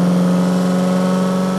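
Electric motor fed from a 12-volt battery through an inverter, a loud, steady, even hum with a strong tonal whine and slight pulsing throughout the short clip, close by with no voices.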